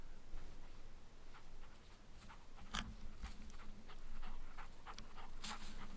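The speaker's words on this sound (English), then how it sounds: "Yes, that's dog." A dog pants on a windswept hilltop campsite near the Cheviot, quick soft breaths running under steady wind noise, with a sharper snort or bite sound midway.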